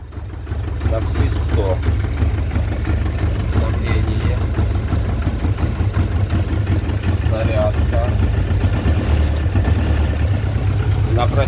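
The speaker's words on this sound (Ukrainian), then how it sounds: "Тракторець працює." A small Xingtai tractor engine runs steadily at idle with a low, chugging rumble, continuous and close, as someone talks over it.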